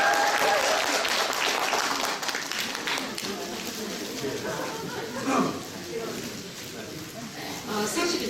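A crowd at a political talk concert in Gwangju's Seo district claps to welcome a former lawmaker onto the stage, a sustained wash of applause that softens midway and swells again briefly toward the end.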